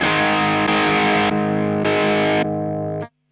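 Sustained electric guitar chord through a BOSS MS-3 effects processor, heavily distorted, switching between brighter and darker tones in sections before cutting off abruptly.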